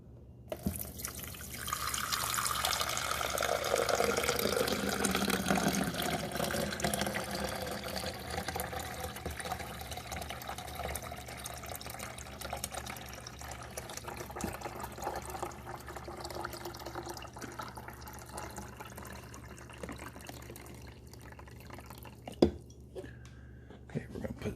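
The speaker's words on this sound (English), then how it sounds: "Now we're going to add our water." Water pours steadily into the reservoir of a Cuisinart 12-cup programmable coffee maker for several seconds, the pitch rising as it fills, followed by quiet trickles and a faint clunk near the end.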